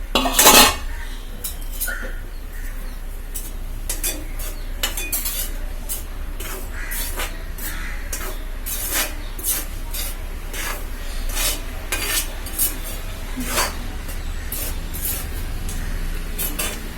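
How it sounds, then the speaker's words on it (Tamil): Red rice flour is dry-roasted in a pan for ghee puttu, with a spoon scraping and clinking against the metal in quick repeated strokes, close and fairly loud, with no voices. "இப்போ இந்த மாவை நான் வறுத்துக்கிறேன்."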